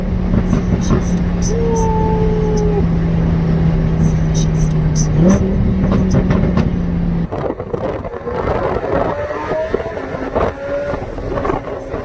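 Lamborghini Huracan engine pulling hard on a street run, a loud rising roar climbing through gears with a shift blip midway, then dropping to a rougher cabin rumble with wind noise.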